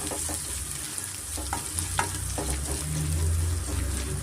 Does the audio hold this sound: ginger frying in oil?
yes